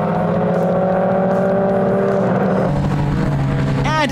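Historic race cars roar side by side around a bend into Castle Corner, engines loud and close, their rising and falling pitches blending into a continuous multi-car drone with no talk.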